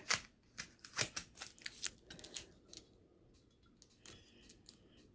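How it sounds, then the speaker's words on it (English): Packing tape is pulled off a cardboard box lid in a series of short, crackling rips and peels, close and fairly quiet, clustered in the first few seconds with softer rustles afterward. "I have it taped shut, so let's untape it here."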